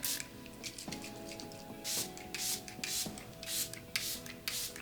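Repeated short hissing bursts of a Ciate Watermelon Burst makeup setting spray bottle, six or so pumps in an uneven rhythm, close by over soft rubbing and faint tones.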